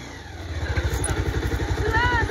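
A motorcycle climbs a steep mountain road in Bajhang, Nepal, its engine pulsing in a close, steady, rhythmic chug throughout, with a person speaking over the engine.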